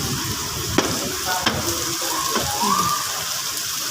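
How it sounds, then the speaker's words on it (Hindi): Heavy rain falls steadily during a storm with strong wind, a broad hiss with a few sharper drops and knocks, close and even throughout with no voices. "बहुत तेज़ से बारिश आ रही है"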